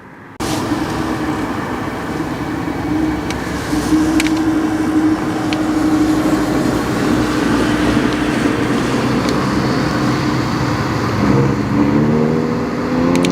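An Aston Martin supercar runs on the Curborough sprint course, a steady engine drone over outdoor ambience, rising in pitch toward the end as it is given more throttle.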